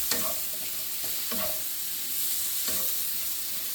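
Steak bites and Yukon Gold potatoes sizzle in garlic butter in a pan, with a steady frying hiss broken by a few short stirring scrapes, close by and moderately loud, with no talking.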